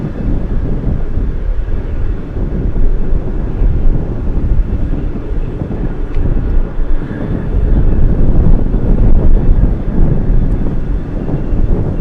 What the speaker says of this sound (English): The wind is relentless.